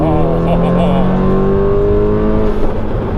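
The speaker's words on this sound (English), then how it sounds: "that rev's high" Audi S3 with a 400 BHP build and automatic gearbox, engine revving high from the driver's seat, a loud, steady, rising drone filling the cabin throughout.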